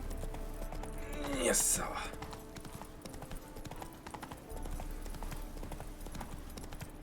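The horse Roach trots in The Witcher 3, a rapid clip-clop of hooves running under soft game ambience, with a brief voice and a sharp whooshing sound partway through.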